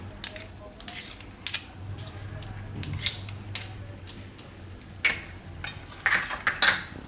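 A spoon scrapes and clinks against a bowl while aloo tikki mixture is mixed with tomato ketchup, giving irregular light taps and scrapes at close range over a quiet background.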